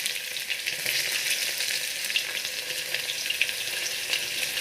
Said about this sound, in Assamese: গেছৰ ফ্লেমটো অলপ কম কৰি ল'ব তাত পিঁয়াজ দি দিছোঁ